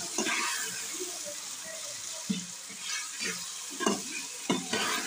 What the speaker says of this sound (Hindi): हल्का सा इनको तेल में फ्राई कर लेंगे।